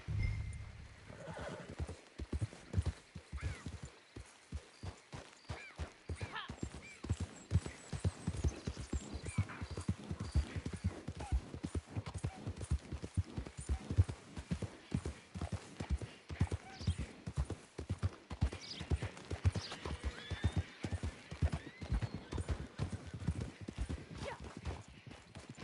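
Horse hooves clip-clop in a steady, close rhythm with a few whinnies and neighs in the Red Dead Redemption video game, moving continuously throughout.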